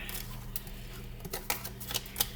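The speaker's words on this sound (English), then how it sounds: "Drop some cards." Tarot cards dropped and shuffled onto a table, a few quick papery slaps and flicks over a low steady hum, close and fairly faint.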